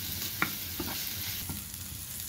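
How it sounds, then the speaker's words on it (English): Chopped onion is stirred continuously in a hot pan, a steady close sizzle with soft scraping strokes and a few light knocks of the spoon. "Stir it properly. Keep on continuous stirring."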